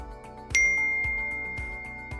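A bright notification bell ding strikes once with a clear ringing tone that slowly decays, alone over a faint steady background hum.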